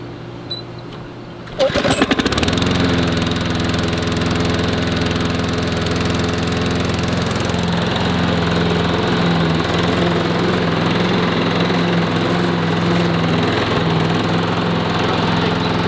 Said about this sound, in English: So now it's just a matter of trying to get it started.